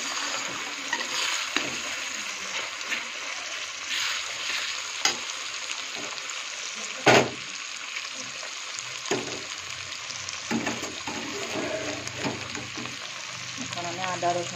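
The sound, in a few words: frying onion and tomato for ghugni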